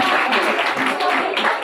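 Audience applause greets a third-place painting prize winner at a youth festival award ceremony, a short burst of steady clapping from a crowd.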